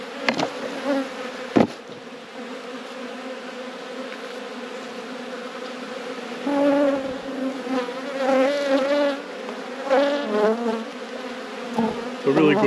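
Honeybees buzz around an open brood box of a recovering hive, a dense steady drone close by, with individual bees rising and falling in pitch as they fly past.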